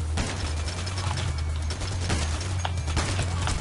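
Bursts of gunfire from a newly acquired weapon in the heist shooter Payday, steady and dense over a constant low game hum, with sharp transient shots recurring through the short stretch.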